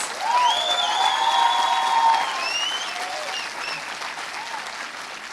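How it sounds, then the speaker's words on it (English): A ceremony audience at a film festival's inaugural event breaks into dense, sustained applause, strongest early and slowly thinning, with faint cheering tones mixed in. "Let's give him a rousing applause."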